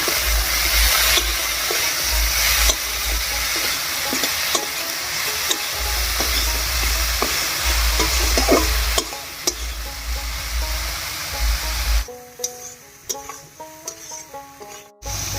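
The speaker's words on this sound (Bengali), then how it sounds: "বেগুনটা হালকা ভাজা ভাজা হয়ে গেছে" Brinjal fries in a pan with salt and turmeric, sizzling and hissing up close, with repeated scrapes and clatters of stirring. The sizzle fades near the end, leaving scattered knocks.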